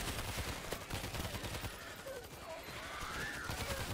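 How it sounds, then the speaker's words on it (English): Automated turrets in a shooter video game fire dense, continuous bursts of gunfire across the whole stretch, loud and unbroken, with a voice talking faintly underneath. "Thank you, auto turrets"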